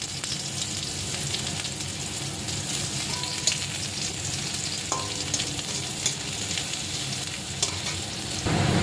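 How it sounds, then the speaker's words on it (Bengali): Garlic added to onions frying in a pan gives a steady, close sizzle with a few small clicks and stirring scrapes, and it runs on its own with no voices. "এখন পেঁয়াজের মধ্যে ছেড়ে দেব রসুনগুলো।"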